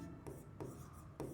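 Pen or marker writing the molality formula on a board in a chemistry lesson, several faint strokes with soft scratchy bursts over low room hum, no talking.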